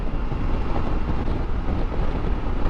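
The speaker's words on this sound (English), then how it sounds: "Crazy windy, but pretty." Strong wind roars across the microphone on a Triumph Tiger 900 GT motorcycle along Highway 101 on the Oregon coast, a dense, loud, unbroken low buffeting with no voices.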